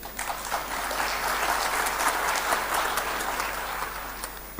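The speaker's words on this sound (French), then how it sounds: "On pourrait l'applaudir, hein?" Conference audience applauding after a former Chilean finance minister is introduced, a full, sustained round of clapping that runs evenly from start to finish.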